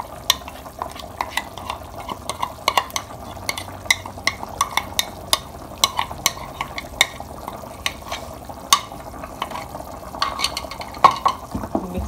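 Mutton being stirred with a yogurt and spice mix in a pot, with steady scraping and clinking stirring strokes over a soft background sizzle, close and fairly loud, with no talking.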